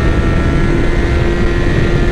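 A 2007 Honda CBR 600 RR motorcycle rides at speed, its engine a loud steady drone under heavy wind roar, with no talking.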